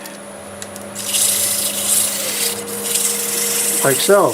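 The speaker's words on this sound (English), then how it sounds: "I can sand the inside with a small piece of sandpaper, 150 grit" A small piece of 150-grit sandpaper rubs against the inside of a freshly turned wooden bowl, a steady close scratchy hiss over a low machine hum, with a brief spoken remark at the end.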